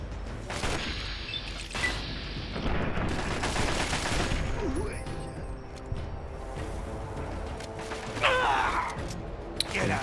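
Gunfire from all sides in Fallout: Tale of Two Wastelands, with rapid bursts and scattered shots mixed with mechanical clanks and creaks, fairly loud and continuous throughout.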